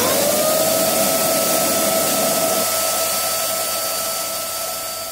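A MEMAX air track valve pump whines steadily while inflating an air track, a loud, even motor hum that eases slightly toward the end.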